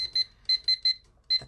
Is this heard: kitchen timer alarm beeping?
yes